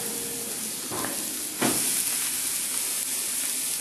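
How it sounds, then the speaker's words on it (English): Carne asada sizzles steadily on a hot griddle for a giant burrito, a loud continuous frying hiss with brief bursts of stronger spatter, no voices. "And then we put the meat on it"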